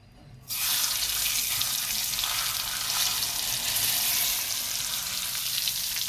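Fish drops into hot oil with curry leaves in a pan, and a sudden loud sizzle bursts in and then holds as a steady, close, hissing fry.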